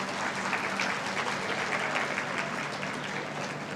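Audience clapping at an international conference on world religions in Lahore, a thick, continuous patter of many hands heard at moderate volume with steady intensity from start to finish.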